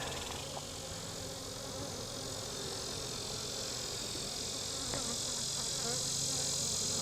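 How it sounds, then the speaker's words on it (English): Dense, steady swarm buzz of honey bees being shaken off a hive frame, loud and continuous throughout, with a brief thump partway through and no talking. "I'm going to shake the bees off it."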